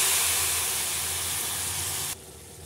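Fish dropped into a pan of hot spice mixture with salt, turmeric and chili powder gives a loud, steady sizzling hiss that cuts off abruptly near the end, with no talking.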